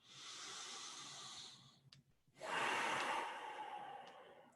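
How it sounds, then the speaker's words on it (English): Deep, slow breaths during a floor yoga session, a long airy exhale followed after a short pause by a stronger, louder breath that gradually fades, close and alone with no talking. "Take some breaths."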